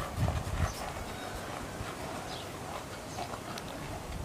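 A mare's hooves clip-clopping on the ground, a few close, louder steps at the start and then softer, irregular hoof beats amid outdoor background noise, with no talking.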